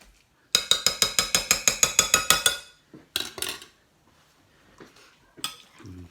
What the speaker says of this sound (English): Mix this round now with a spoon.